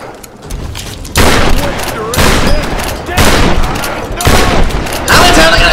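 Repeated heavy gunfire blasts aimed at a large enemy in the Tomb Raider video game, loud bursts recurring roughly every second, with a player talking over the shooting.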